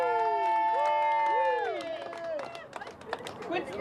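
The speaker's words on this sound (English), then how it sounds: "Stand up, let's cheer these guys on!" A restaurant crowd at a 72-ounce steak eating contest in Flagstaff, Arizona cheers and whoops for the finishers, with sustained shouts at first that break into scattered claps and chatter.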